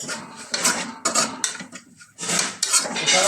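A spoon scrapes and clatters against a pan as masala with pepper powder is mixed for a sausage kappa biriyani, giving several loud, close scraping strokes with short pauses between them.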